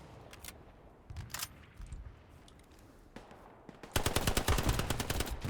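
Gunfire from a military video game: a few scattered single shots early on, then a sustained burst of rapid automatic fire near the end, loud and close.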